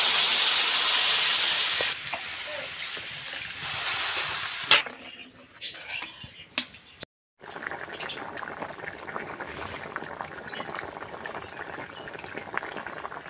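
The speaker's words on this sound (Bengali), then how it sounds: "তরকারির ঝোলটা ফুটে উঠেছে" A pot of spicy fish curry gravy bubbling and hissing steadily on the stove, a loud steamy boil at first that drops after a couple of seconds to a softer simmer with a few clinks and a brief pause.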